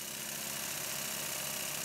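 Two Stuart model steam engines with flywheels running in a steam plant, producing a dense, continuous mechanical chuffing and rumble with a fast, even pulse, loud and close throughout.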